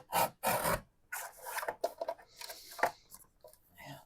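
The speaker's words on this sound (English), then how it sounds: "I need to trim this off just a hair though." Paper card edge being trimmed during card making, a few short rasping cuts and rubbing strokes in separate bursts, close and moderately loud, with quiet gaps between them.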